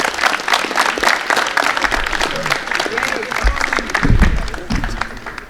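A crowd applauds loudly at a high school athletic signing day, with continuous dense clapping throughout and a few louder thumps and voices near the end.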